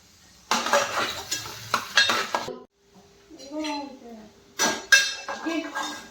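Onion and bay leaf dropped into hot oil, loud clattering and scraping of a utensil against the pan in bursts, a short pause with a voice speaking, then more crackling stirring.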